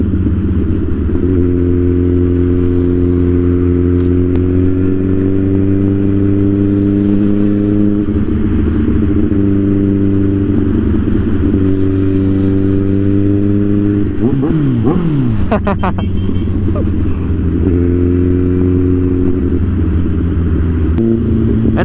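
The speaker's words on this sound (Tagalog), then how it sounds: "kung may nag-request sa ating mag-rev, pagbibigyan natin" A motorcycle engine idles with a steady, close, loud throb, then gets several sharp revs whose pitch climbs and falls before it settles back to idle. No one speaks.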